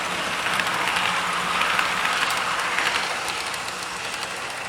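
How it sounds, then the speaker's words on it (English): N-gauge model freight and passenger trains run on a small demonstration layout, giving a steady, close whirring rumble with faint rail clatter that holds evenly throughout, no talking. "our freight train is stopped and waiting, and it'll wait until that passenger train reaches the end of the straight section"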